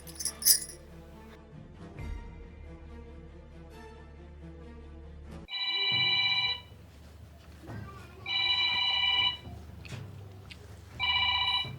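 A mobile phone rings in three bright electronic bursts, each about a second long, separated by short gaps, over a quiet indoor background with faint murmurs.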